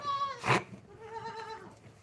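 Goats bleating on a farm field, two clear wavering bleats close by with a brief burst of other noise between them.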